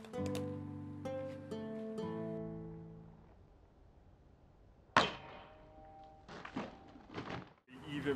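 A sword slices through a hard plastic water bottle during HEMA cutting practice: ringing tones fade out, then a single sharp whooshing impact lands midway, followed by a few scattered knocks and rattles.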